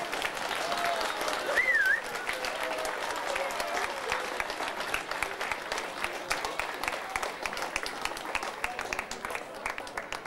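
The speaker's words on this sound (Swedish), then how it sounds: "Ge henne en applåd till" Steady applause from a crowd, dense clapping that carries on evenly throughout, with a brief squeak or whistle early on.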